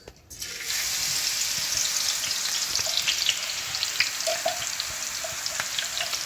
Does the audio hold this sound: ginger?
yes